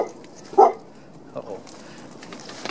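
At a junkyard, a dog gives one sharp bark close by, followed by a fainter bark from farther off, with quiet outdoor background between them.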